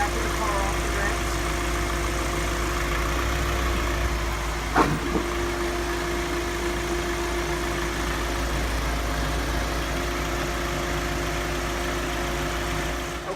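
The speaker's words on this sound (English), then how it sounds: "We've started the vehicle." A 2006 VW Jetta TDI diesel idles steadily after an oil change, giving a constant low, even drone with no revving.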